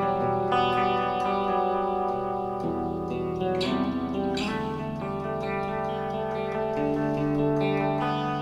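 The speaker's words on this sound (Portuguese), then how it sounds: "só vou fazer um sonzinho limpo aqui com o Fender, na Head Rush também" An Epiphone Dave Mustaine Prophecy electric guitar on the bridge humbucker plays a clean tone through a HeadRush unit: sustained ringing chords and notes change every second or so, with echo and reverb tails, and no talk.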